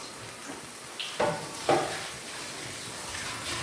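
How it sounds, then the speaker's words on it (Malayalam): Chopped leaves drop into about half a spoon of hot oil in a frying pan on the stove, setting off two quick bursts of crackling sizzle over a low steady hiss. "ചീനിച്ചട്ടി അടുപ്പത്ത് വെച്ചു, എണ്ണ ഒഴിച്ചു, ഒരു 1/2 സ്പൂൺ എണ്ണ. അതിനകത്തേക്ക് ഞാൻ അല്പം ഇല അരിഞ്ഞതാണ് ഇടുന്നത്."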